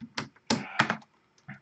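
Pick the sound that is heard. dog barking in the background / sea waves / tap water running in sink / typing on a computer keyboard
typing on a computer keyboard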